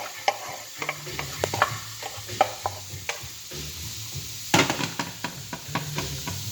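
Pork tenderloin sears in a pan at medium-high heat under a steady low sizzle, with frequent sharp clicks and scrapes as it is stirred and turned, close and fairly quiet.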